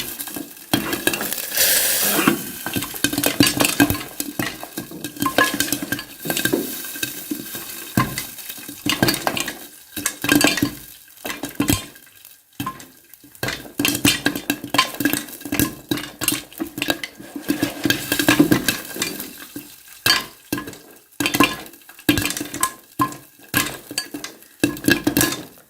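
Homemade popcorn cooks in a pot being shaken and turned, kernels sizzling in oil with scattered pops and metallic scraping and clinking of the pot over a continuous frying hiss.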